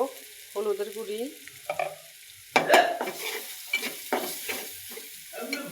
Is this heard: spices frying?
yes